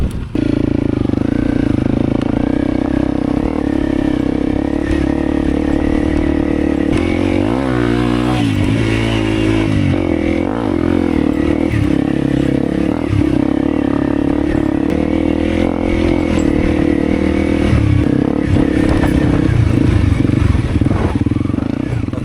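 Honda CRF250 rally motorcycles ride along, their engines droning loudly and steadily throughout with bursts of revving and some clatter, close to the mic and continuous.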